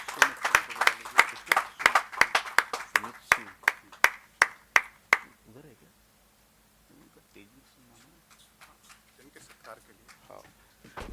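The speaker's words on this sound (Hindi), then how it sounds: "जोरदार तालियां आपकी।" Audience clapping at a national seminar honouring a poet, a burst of sharp, fairly sparse claps for about five seconds that thins out and stops, followed by quiet background voices.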